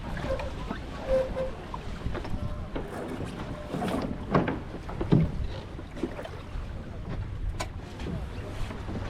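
A J/70 sailboat moves through the water during an in-port race, giving a steady wash of water and wind noise with occasional knocks and rustles of gear, close and moderately loud throughout.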